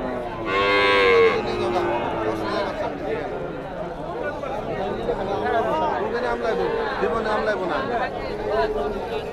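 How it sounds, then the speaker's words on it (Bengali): Calves mooing at a crowded cattle market, several loud close bellows repeating over the whole stretch, with people chattering and bargaining in the background. "এদিকে সব ছোট ছোট বাছুর গরু কুরবানি।"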